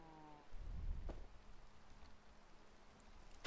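Rain falls in the Minecraft modpack SevTech Ages as a soft, steady hiss of drops that begins after a brief low thump and continues faintly to the end.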